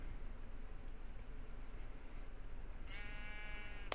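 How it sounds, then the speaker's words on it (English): A sheep bleats once in a video game, a short nasal wavering bleat near the end over a steady hissing background, with no talking. "Shut up, sheep. I'm looking for a bat, not you."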